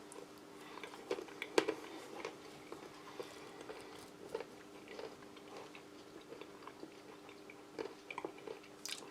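Nuts crunched between the teeth while eating a Norwegian army arctic field ration of beef and potato stew, close and quiet, with irregular soft crunches and bites spread through, no talking.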